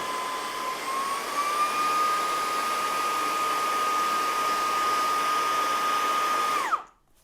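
An Elenat Tesla car vacuum cleaner runs in its strong mode, giving a loud, steady high-pitched whine with a faint tonal rise early on. It holds evenly for about seven seconds, then cuts off sharply near the end.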